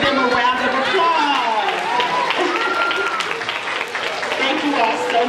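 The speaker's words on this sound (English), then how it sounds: "Let's give them a round of applause." Audience applause at a school teacher-of-the-year awards program, sustained clapping from a crowd with cheers and chatter mixed in, fairly loud and continuous.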